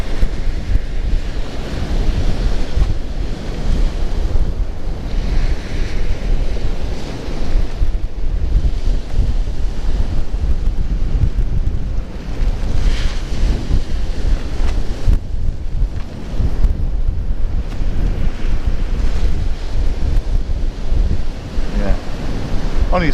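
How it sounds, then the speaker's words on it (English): A strong, horrible southeasterly wind blasts across the beach at Hornsea during a low tide, roaring continuously into the microphone over crashing surf, with a faint voice in the background. "Horrible southwesterly wind, or southeasterly, is it? It's not a nice wind anyway,"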